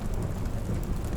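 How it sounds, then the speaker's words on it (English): Steady rain falls in an even, soft patter outside an old caravanserai inn at night. The dense wash of sound is brief and close, with no voices. "rhythmic patter of the rain."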